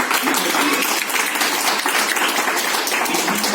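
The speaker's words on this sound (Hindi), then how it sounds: "तो आप जो तालियों की गड़गड़ाहट है वो जारी रखेंगे" An audience at a school Republic Day celebration applauding, dense continuous clapping from many hands filling the whole span, loud and even.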